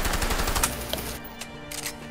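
Gunfire in the video game A Way Out: a rapid burst of loud, close shots crackling through the first second, followed by a few sparser, fainter bangs.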